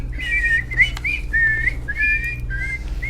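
A person whistles a short tune of several wavering, sliding notes in bursts, close and fairly clear over a low background hum.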